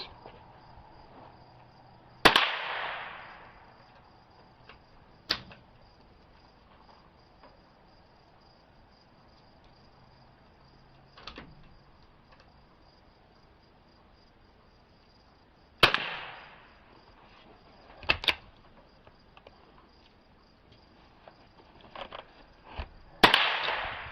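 A Glenfield Model 20 bolt-action rifle fitted with a Rifle Basix trigger fires several sharp, separate shots at irregular intervals outdoors, each crack decaying quickly, with crickets chirping softly in between.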